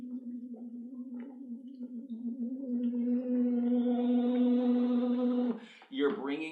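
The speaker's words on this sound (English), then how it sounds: "you slowly and gradually get louder and bring it to full voice like this." A singer's voice slides from a very light falsetto up to full voice through a DoctorVox vocal exercise device, a steady sustained tone growing gradually louder, with a brief break and restart near the end.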